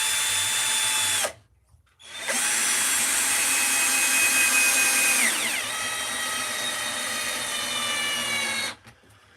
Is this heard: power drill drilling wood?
yes